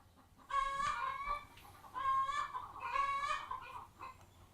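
Chickens clucking loudly and close by in repeated bursts, with short pauses between clusters of calls.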